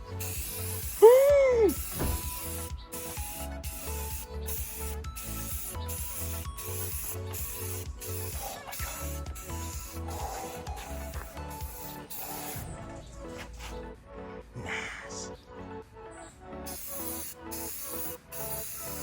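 A spray can lays clear coat onto the door area of a Mazda RX-7 FC during a home restoration: a steady, close hiss broken by short regular gaps, continuing for most of the stretch.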